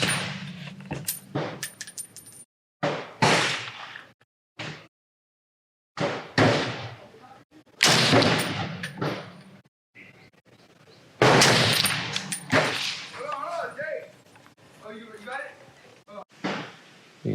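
Rifle shots from an FN SCAR 20s fired at an outdoor shooting bench ring out as loud, sharp reports, broken up by talking and clattering handling noises.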